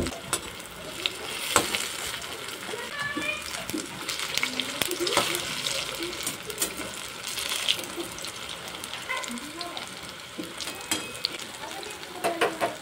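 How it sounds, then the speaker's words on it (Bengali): Batter-coated taro leaf pakoras frying in hot oil on a tawa, a steady crackling sizzle with dense spitting bursts that continues alone throughout, fairly close and moderately loud. "বাকি কচু পাতাগুলো ভেজে নেব একইভাবে।"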